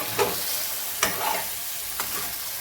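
Close stirring in a frying pan while fish curry cooks: a steady sizzle with three evenly spaced scrapes of the spatula, roughly one per second, and no voices.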